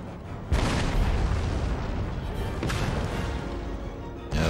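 Cannon artillery booming in the video game Empire: Total War: a loud sudden blast starts a long rolling rumble, a second report lands midway and a third arrives near the end.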